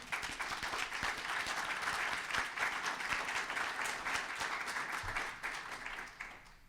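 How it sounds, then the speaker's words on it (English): Sustained applause from a lecture audience, dense and steady throughout, tapering off slightly near the end. "So if you could please give all of those people a round of applause."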